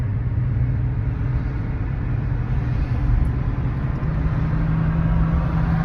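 From inside a car driven on a New York road comes a constant low engine and road rumble, steady and fairly loud, with no talking.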